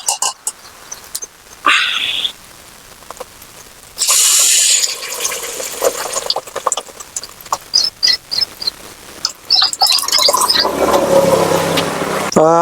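Cooked matki water is poured into spicy masala frying in a pan for village-style misal, with a sudden loud sizzle and hiss, then crackling and bubbling that continue strongly toward the end.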